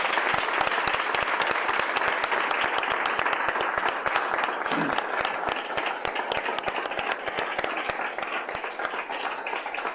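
An audience at a colloquium in Madrid applauds loudly and steadily, dense clapping that continues unbroken for the full ten seconds, fairly close and without speech.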